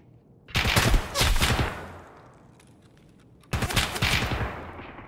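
Automatic gunfire in Escape from Tarkov's Factory map, two rapid bursts of close, loud shots roughly three seconds apart, a reverberant tail ringing between them.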